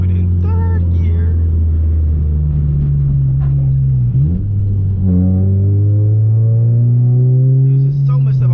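A manual Honda Civic Si with a K24 engine and Invidia exhaust, driven in the rain, downshifts into third. The loud engine drone drops and then climbs again in pitch, with a rumbling exhaust close up.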